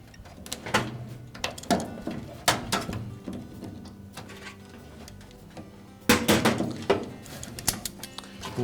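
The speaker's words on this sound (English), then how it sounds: "with a pair of pliers we'll squeeze that clamp, slide it down over the hose" Pliers squeeze and slide a hose clamp along a hose on a GE washer's dual water inlet valve, giving sharp metallic clicks and clanks in scattered bursts, close and fairly loud, with no talking.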